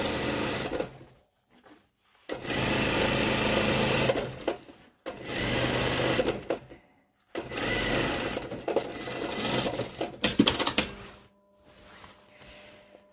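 Sewing machine stitching a trouser leg seam in several loud, steady runs of a few seconds each, separated by brief pauses and quiet handling of the fabric.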